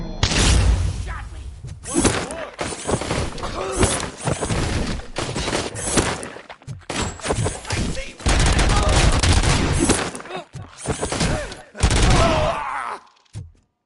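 Rapid automatic weapon fire in RoboCop: Rogue City, loud sustained bursts of shots repeating through the scene with short gaps between volleys, close and dominant, with a voice talking in between.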